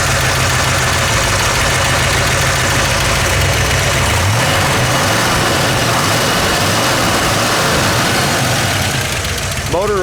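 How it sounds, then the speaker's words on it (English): A 1962 Chevrolet Bel Air with a 409 engine and stock manifolds runs steadily, a loud, close, continuous low rumbling idle with a faint lope that never lets up. "Motor runs excellent."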